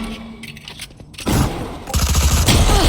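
Gunfire from a competitive tactical shooter match, a wallbang kill through cover: a quiet stretch of footsteps and small clicks, then a sudden loud burst of shots and a second heavier volley close by.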